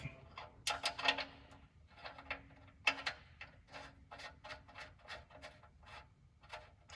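Drain plug on a HMMWV with a 6.2L naturally aspirated diesel being tightened after an oil change: a quiet run of short ratcheting clicks and scrapes in an uneven rhythm, close by, with no talk.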